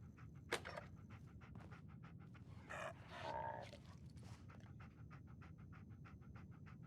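Dogmeat, the dog companion in Fallout 4, pants in quick steady breaths throughout, soft and close, with a few brief clicks and shuffles over low ambient game noise.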